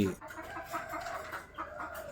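A Burmese fighting rooster clucks in a series of short, soft calls repeating irregularly over a steady background hum, fairly close with no voices.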